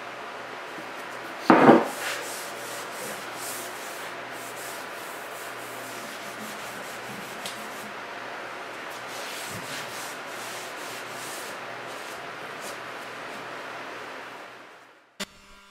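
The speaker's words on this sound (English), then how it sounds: "the orbital sander works all right, but it's gonna be kind of slow at this speed" A steady, rasping hiss from an orbital sander running slowly over the cast iron of a second-hand wood stove to take off surface rust. It is close and continuous, with a brief knock near the start and a sharp tap at the end.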